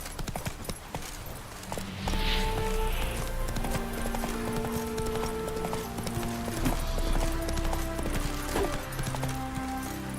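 Horse hooves clip-clopping at a steady galloping rhythm in The Witcher 3 video game, continuous and fairly close over a soft musical score, with a brief whinny early on.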